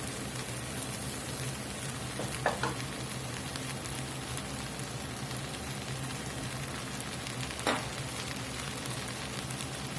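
Flour is stirred into hot oil for a Cajun gravy roux, giving a steady, even sizzle close up with a couple of faint scraping touches of the spoon.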